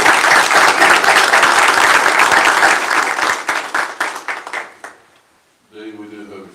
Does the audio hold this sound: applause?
yes